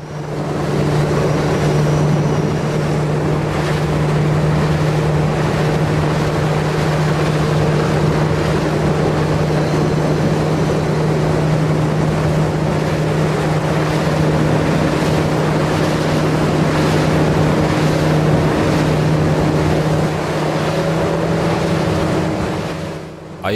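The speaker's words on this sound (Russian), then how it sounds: "Зеленая лодка тоже ускоряется, начинает преследование белого Сузумара. Лодки набирают скорость." Outboard motorboats racing on open water as the green boat speeds up to chase a white boat running a Suzuki engine, a steady loud engine drone with a low hum and water wash that holds throughout.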